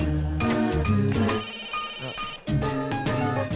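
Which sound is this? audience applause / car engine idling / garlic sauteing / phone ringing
phone ringing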